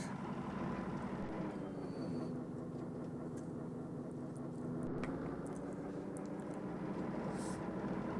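A train rumbles along steadily in the Transport Fever 2 game, a continuous low rolling drone with a faint engine hum, moderately quiet, with small clicks of game interface sounds and no talk.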